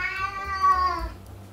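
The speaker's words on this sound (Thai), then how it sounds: "แมวร้องน่ารำคาญ" A single cat gives one drawn-out, tonal meow lasting over a second, close and clear, rising slightly then fading out over a low background hum.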